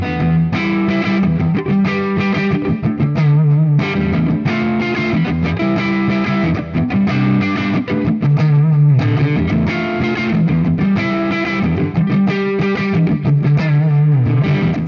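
Gibson Jessica Slash Les Paul electric guitar played through heavy distortion, a dense, loud riff of sustained chords and single-note lines filling the whole stretch without pause.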